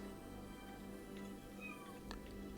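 A cat meows a few faint times against a steady background hum, the calls short and distant rather than close to the microphone.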